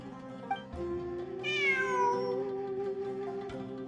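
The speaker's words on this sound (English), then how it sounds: "It really is a cat." Cat meowing in Genshin Impact, one clear drawn-out meow near the middle over a quiet humming game background, with no talking.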